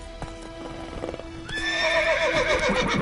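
Hooves of Roach, the horse in Witcher 3, clip-clop in a steady rhythm, then a loud whinny with a rising and falling neigh joins near the end.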